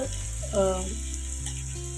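Ginger and cumin roast in a pan for a millet baby-food dish, giving a soft, steady sizzle under a low background hum, with no talking.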